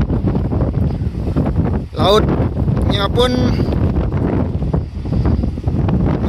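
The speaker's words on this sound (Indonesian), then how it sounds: "Di sini anginnya sangat besar, kalian lihat sendiri." Strong coastal wind at Tanjung Ringgit on the Sumbawa coast roars and buffets the microphone in loud continuous gusts, while a person speaks briefly over it.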